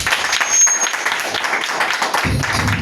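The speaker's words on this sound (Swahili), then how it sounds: "Mpigie makofi." Church congregation applauding together, a steady dense patter of many hands clapping at moderate distance, continuous through the moment with a low rumble joining near the end.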